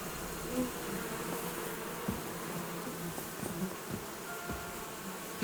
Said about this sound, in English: What's that? Those are my bees.